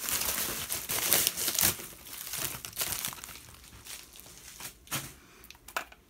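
Free packaging material crinkles and crackles as it is handled up close, loud bursts of rustling that fade in and out over several seconds, with no voices.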